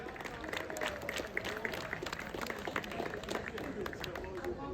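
Audience clapping at an event in Dagestan after a recited poem about the region, a steady dense patter of many hands filling the room with scattered individual claps standing out, moderately loud.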